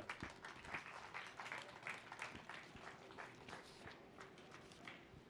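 Small outdoor crowd in the paddock at the IDM 2019 round in Zolder, Belgium, giving a brief, faint scattering of claps with sharp individual hand hits over a quiet background.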